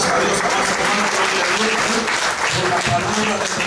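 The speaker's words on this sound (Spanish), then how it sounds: "¿Cuánto pueden regalar fuertes palmas a Dios?" A church congregation claps loudly and continuously during a wedding service, dense applause close by throughout with a voice speaking over it.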